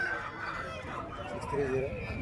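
A rooster crows and clucks at a fighting-cock market, its calls mid-distance amid crowd chatter and people talking nearby.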